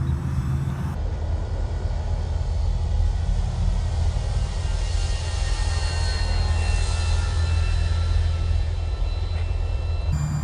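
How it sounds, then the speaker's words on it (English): A Dynam Spitfire RC plane passes low overhead, its steady electric motor and prop whine holding loud and even throughout with a broad rushing tone. "let me do a little bit of a low flyby"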